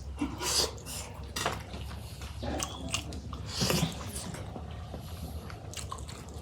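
Someone eats milk pitha made with date palm jaggery, with soft biting and chewing plus a few clinks of dishes and cutlery, close up with faint background noise.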